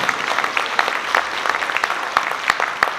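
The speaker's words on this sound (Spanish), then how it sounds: "Un fuerte aplauso para la compañera de nuevo" Applause from a conference audience greeting Dr. Lesly Solís before her talk on the environmental crisis, a steady patter of many hands with scattered sharper claps running throughout.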